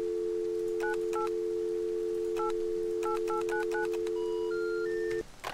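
In the game Rust, a telephone plays a steady dial tone under a series of quick keypad beeps in short bursts, then rising tones before the line cuts out; clear and close, no talking.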